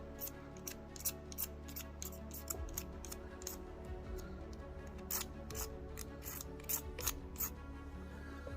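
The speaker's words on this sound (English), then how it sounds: "We'll scrape more." A ferro rod scraped for sparks while hammock camping on a cold spring night, repeated short rasping strokes in a steady rhythm, close but quiet over low background hum.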